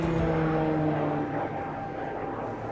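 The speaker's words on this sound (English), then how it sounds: "I don't know what plane that is." An airplane passes overhead near a campsite, its steady engine drone loud at first and then slowly fading.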